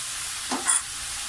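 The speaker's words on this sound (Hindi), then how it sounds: "अब इसे मिक्स करते हैं ताकि ये सब्जियों के साथ मिक्स हो जाए।" A spoon stirs about four spoonfuls of tomato ketchup into vegetables in a pan for a chicken macaroni dish, a faint scrape and soft sizzle with one short burst of movement midway.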